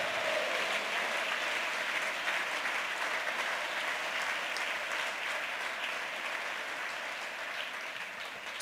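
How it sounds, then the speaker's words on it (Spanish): Steady applause from a church congregation at a sermon by a reverend, a continuous wash of clapping at moderate distance that holds evenly throughout without a break. "Un aplauso para él."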